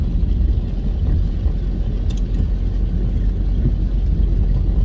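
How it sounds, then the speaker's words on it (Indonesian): A small license-free car drives past on the road, a loud close steady engine rumble filling the scene without speech. "ini ada mobil ya"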